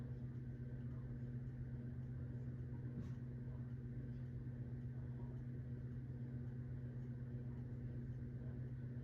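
A 1980s Supreme Mark VI ceiling fan runs with a steady low hum and drone, slightly warped blades letting it wobble and sway, faint and continuous with no talking.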